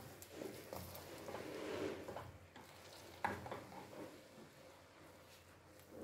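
Coconut rice stirred in a pot over the lowest heat of a gas cooker, soft wet scraping and gentle sizzling at close range, quiet, with one sharper knock of the spoon partway through.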